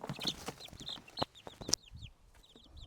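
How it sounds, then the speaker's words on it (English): Chicken clucking and peeping close by, with repeated short chirps over scattered scratching and knocks, fairly quiet and with no talk. "So this is a chicken to go in here"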